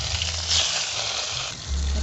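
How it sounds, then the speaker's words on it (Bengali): Pieces of fish rubbed with salt and turmeric frying in hot oil in a wok, a continuous close sizzle with bubbling that briefly intensifies, plus low clatter. "এবার আমি এক এক করে মাছটা ভেজে নেব।"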